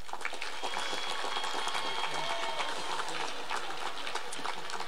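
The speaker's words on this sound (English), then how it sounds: "Please join me in applauding their efforts" A graduation-ceremony audience in a high school setting claps steadily for students with perfect attendance, a dense continuous patter of many hands at moderate distance with no break through the stretch.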